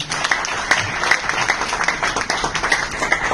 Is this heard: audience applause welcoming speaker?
yes